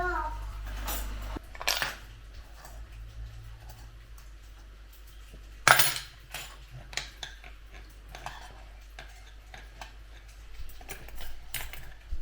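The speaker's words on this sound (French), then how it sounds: "tu vas te chercher une fourchette et une cuillère?" A small child fetches a fork and spoon at home, with a few faint metallic cutlery clinks and clatters scattered through a quiet room, one sharper knock in the middle.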